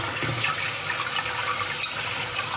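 Cold water poured over a hot glass bottle during bottle cutting, a steady running splash and trickle, close and continuous with no talk.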